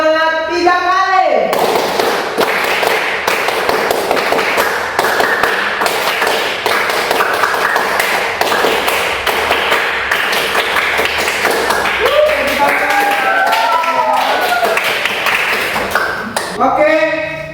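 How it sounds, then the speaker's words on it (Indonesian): A classroom group claps a long rhythmic spirit-clap sequence of rapid, crisp claps, with a voice heard at the start and partway through. "Tepuk semangat 3 kali."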